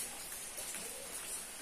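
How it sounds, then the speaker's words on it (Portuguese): Steady rain falls in the dry backcountry of Ceará. It makes a dense, even hiss of drops on surfaces with no breaks, at moderate volume and with no voices. "E está chovendo."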